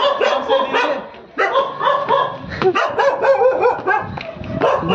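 A dog barks repeatedly near the Bagh Bhairav temple in Nepal, loud, close yips and barks in quick bursts with brief pauses, and voices can be heard faintly among them.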